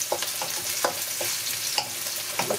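Onions browning in a pot for a one-pot vegan stew give off a steady, close sizzle, broken by a few short scraping clicks of stirring.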